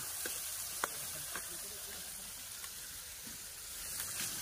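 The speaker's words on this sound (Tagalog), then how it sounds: "marami akong hinahalo itong mga ricado at may kunti lang ito ay maluluto na" Onions, garlic and spices for dinuguan sizzle and fry steadily in a pan, with faint scattered scraping taps of stirring on the metal, a low continuous hiss throughout at close range.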